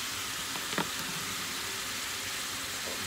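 Onion and garlic frying in a pan, a steady, soft, even sizzle with a faint click of utensils near the start and no talking.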